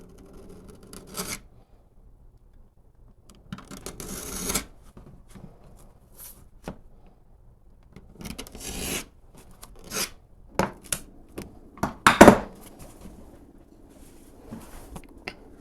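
Knife blade cutting through thick 12-ounce leather for a knife sheath, with intermittent close scraping strokes and rustles separated by quiet gaps, the loudest cut near the end.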